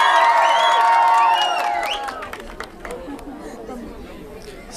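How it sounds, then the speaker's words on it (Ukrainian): Village karaoke audience shouting and applauding together in a loud burst that fades into scattered chatter and claps, with voices prominent throughout. "коли я піднімаю руку, ми починаємо кричати і аплодувати"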